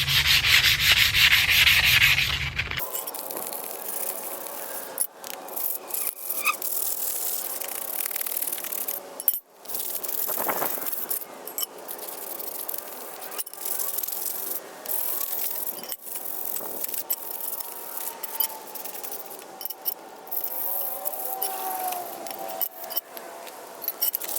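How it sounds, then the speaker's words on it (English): Steady, continuous sandpaper rubbing against metal BMX bike parts, a dry abrasive scraping that carries on for a long stretch with brief pauses, close by and fairly loud. "Take your piece of sandpaper and start going in."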